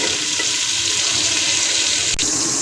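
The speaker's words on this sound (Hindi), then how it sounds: "प्याज हमारा फ्राई हो रहा है," Chopped onions fry in a cup of hot oil in a deep cooking pot for Hyderabadi biryani, giving a loud, steady, unbroken sizzle with no voices over it.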